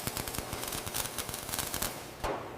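Rapid crackling bursts of arc welding while tacking panels on a century-old luxury bus being restored, a dense, loud, irregular sputter running throughout with a brief louder flare near the end.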